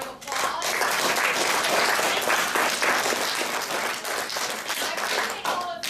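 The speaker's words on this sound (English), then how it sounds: "We can just give Dr. Hughes a big round of applause" Audience at a spring academic symposium breaks into a big round of applause for the speaker, dense steady clapping from a room of people lasting several seconds, with faint voices mixed in.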